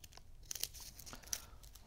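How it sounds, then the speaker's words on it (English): A small Velcro dot being cut from a strip, a brief quiet crinkling snip with a couple of soft, close crackles. "you've got these little Velcro dots here, and I'm just going to cut one of them off"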